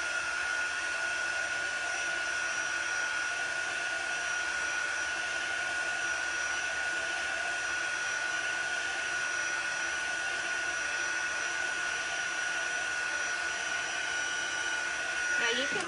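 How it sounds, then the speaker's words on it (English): A heat tool or hair dryer blows a steady, continuous whoosh to dry chalk paste on a rustic wreath and bunny craft project, holding level and close throughout with no talking. "I'm just speeding up the process with my heat tool, or hair dryer works perfectly fine too."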